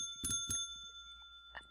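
A bell in the video game Minecraft Tekkit rings twice in quick succession, bright metallic tones close and clear, with a faint third ring a moment later.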